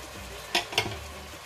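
Chicken with soy sauce sizzling in a pan, with a steady soft frying hiss and two quick scraping stirs of a utensil against the pan.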